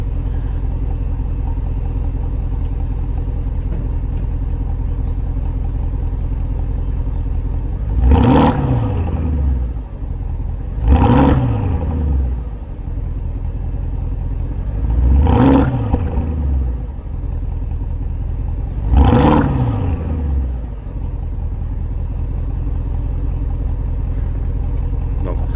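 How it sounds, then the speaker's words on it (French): Stock exhaust of a Porsche Cayenne Turbo, low steady idle rumble broken by four sharp blips of the throttle, each rising and falling quickly, loud and close. "mettre un petit coup d'accélérateur pour démarrer,"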